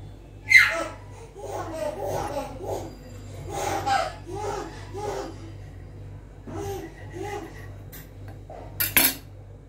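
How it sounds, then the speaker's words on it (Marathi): A knife cuts the crust sides off whole wheat sandwich bread, giving a run of soft scraping strokes and sharp clinks against a plate, close and fairly quiet, with faint voices in the background. "चला तर मग मी आता याला कट करून घेते। तर हे साइडचे कापून घेते।"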